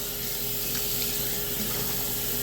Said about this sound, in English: Do not have the water running if I'm not using it.